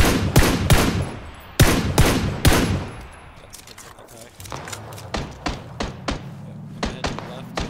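Gunfire in PUBG on a ranked map, loud close shots in quick bursts followed by a run of lighter, more distant rhythmic shots, with players talking over parts of it.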